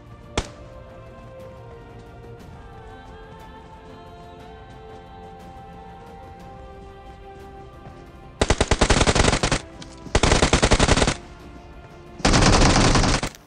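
Loud bursts of automatic gunfire in the battle royale game BGMI, three sustained volleys in the latter half after a quiet stretch of faint game ambience, with no talking.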